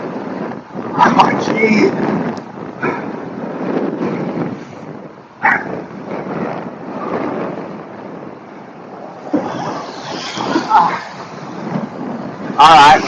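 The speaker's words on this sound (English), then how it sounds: "and the wind." Strong gusty wind buffets a car climbing a hill in the aftermath of an atmospheric river, roaring and rumbling continuously with louder bursts, while a driver mutters briefly over it.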